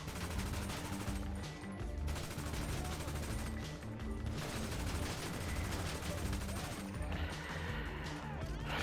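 Gunfire from enemies and the player in GTA Online rattles in dense, continuous bursts amid a busy, steady wash of game noise, fairly faint overall with no talk over it.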